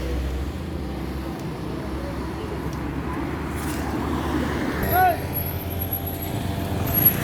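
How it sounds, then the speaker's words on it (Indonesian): Traffic noise on a road near Simpang Pasar Surau as vehicles come in from the Bukit Tinggi direction, a steady low rumble of passing engines with a slight swell around the midpoint, while people talk nearby. "ini ada lagi kendaraan yang masuk ya dari arah Bukit Tinggi ya"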